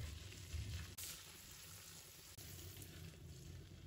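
Pork belly and salted fish stir-frying in a hot wok for an eggplant casserole, a faint, steady frying hiss with a couple of brief breaks where the spatula moves, no voices.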